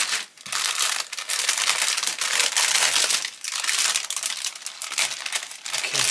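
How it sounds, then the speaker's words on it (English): Plastic bags holding the parts of an HKM 1/48 B-25J glazed-nose model kit crinkle and rattle close up, crackling almost continuously with a few brief pauses and no talking. "sorry about the rattly bags,"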